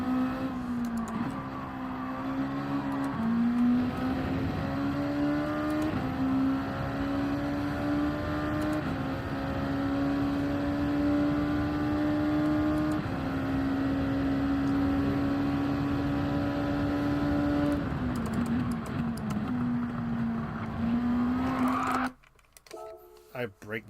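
A Corvette race car in Gran Turismo 7 runs a hilly, twisty time trial, its engine droning steadily and rising and falling through gear changes for about twenty seconds before cutting off abruptly.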